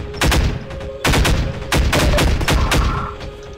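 Bursts of gunfire from Half-Life 2, loud and close, coming in several rapid volleys with short gaps between them.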